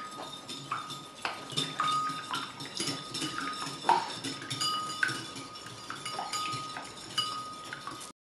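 Egg whites for cinnamon star Christmas cookies being whisked until foamy, a quick, continuous clinking and tapping of a whisk against the bowl, close and bright, with no talk.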